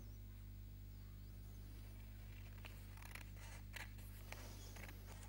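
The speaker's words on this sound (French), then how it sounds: "on va découper une bande" Scissors make several faint, quick snips while cutting a strip, heard in the second half over a low steady hum.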